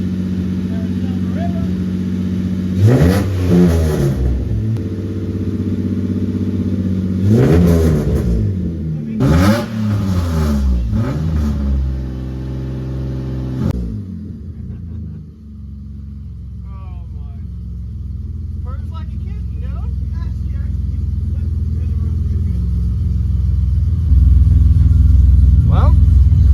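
An old BMW car engine, started on old gas despite wiring trouble, revs hard several times in loud sweeping bursts, then settles into a steady rumbling idle that swells again near the end.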